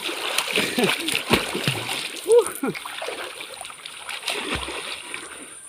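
People splash in a river while bathing, with repeated close splashes and water movement and voices talking and calling over them throughout.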